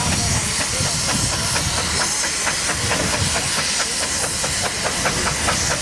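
A loud, steady hiss of escaping steam runs throughout, with rhythmic chuffing beats from a working steam locomotive close by.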